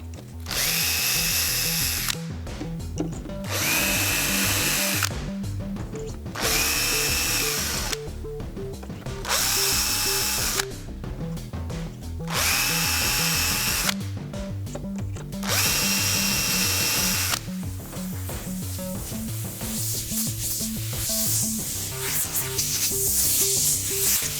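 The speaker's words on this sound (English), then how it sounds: "so now I can pre-drill the remaining 6 holes" A power drill pre-drills screw holes in a subwoofer enclosure, running in about seven steady bursts of a few seconds each with short pauses between them, close and loud, followed by a looser mechanical whir.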